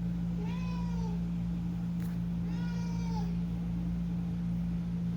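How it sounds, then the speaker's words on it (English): A hungry house cat mewls twice, each a drawn-out, wavering cry close to the listener, separated by a short pause over a steady low electrical hum. "the same wherewithal of a mewling, hungry house cat"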